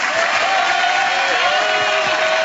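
A crowd gives loud, sustained applause for a singer, a thick even roar of clapping with a light cheering edge that holds steady from start to finish.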